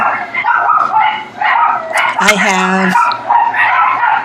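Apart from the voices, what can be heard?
dogs barking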